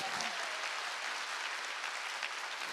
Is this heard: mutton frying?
no